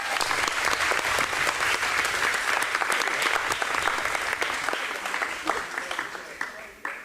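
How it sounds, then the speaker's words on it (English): A round of applause fills a hall for several seconds, loud and sustained from a large audience before slowly tapering off. "we need to give them a round of applause"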